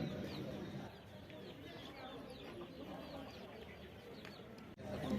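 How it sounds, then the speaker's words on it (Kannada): Several native country chickens cluck and cackle steadily in the background amid general farmyard noise at the Dharwad Krishi Mela agricultural fair, moderately faint and continuous. "ಇಲ್ಲಿ ನಾಟಿ ಕೋಳಿಗಳಿದಾವೆ ನೋಡಿ"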